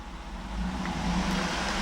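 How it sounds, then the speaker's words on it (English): A 2007 Cadillac Escalade ESV AWD's 6.2 liter V8 with 116,499 miles, revving from idle into a steady, loud low rumble that builds and holds for about two seconds, with no talk over it. "I'm going to rev the engine."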